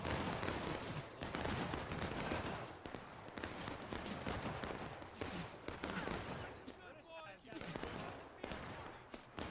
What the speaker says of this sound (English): Let's just see this this volley fire play out.